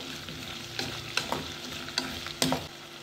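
Drumstick pieces and shallots sautéing in oil for a theeyal curry, a low steady sizzle broken by several sharp scrapes and clanks of a spoon stirring the pan, with no talking.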